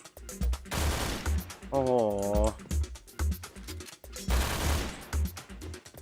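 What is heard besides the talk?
gunfire in the video game Point Blank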